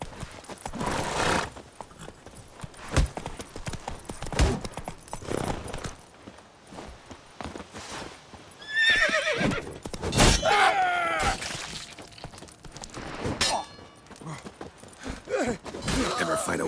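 Roach, a horse in The Witcher 3, trots in rhythmic clip-clops and gives a neigh partway through, among intermittent thumps and game noise.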